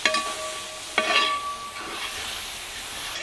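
Beef fry stirred in a pan, with a spatula scrape at the start and another about a second later over a continuous close, bright sizzle that carries on to the end.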